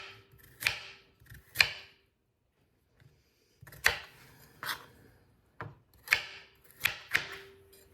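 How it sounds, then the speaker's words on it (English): A knife chops through fresh carrots on a cutting board in irregular bursts of crisp, close taps, with short pauses between the runs of cuts. "Fresh carrots are very easy to cut."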